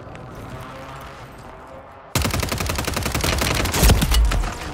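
Dense automatic gunfire bursts out suddenly in Call of Duty, loud and continuous rapid shots after a quieter stretch of ambient game noise.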